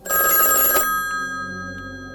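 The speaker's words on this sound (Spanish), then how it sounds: "El sonido del teléfono sobresaltó en medio de la noche" An electronic telephone bell rings once in a loud burst, then its tone fades away.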